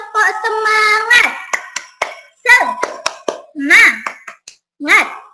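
Fourth-grade pupils in a classroom perform the tepuk semangat spirit clap, a patterned routine of short clap bursts mixed with children's chanting voices, rhythmic and close.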